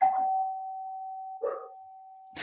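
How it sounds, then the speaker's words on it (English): A home doorbell chimes twice, a sustained two-tone ding-dong ringing clearly in a quiet room, followed by a third struck tone at the end. "my doorbell, Amazon's here. Ding dong."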